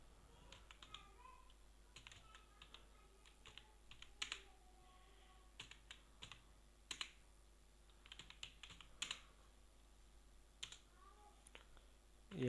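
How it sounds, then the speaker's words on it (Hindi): Rapid typing on a computer keyboard in an office setting, with dense irregular key clicks and occasional louder taps continuing steadily at moderate level. "मैं जल्दी जल्दी टाइप कर रहा हूँ"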